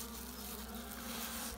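Honey bees being fed sugar syrup, a faint but continuous swarm buzz with a steady low tone, close by and with no talking.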